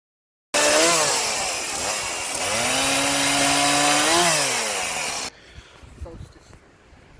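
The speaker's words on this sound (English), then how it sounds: "that's a good way of testing the chainsaw out" A newly assembled chainsaw starts and revs hard in the woods while cutting logs, a loud, near, sustained buzz with pitch rising and falling for about five seconds before cutting off to quiet outdoor background.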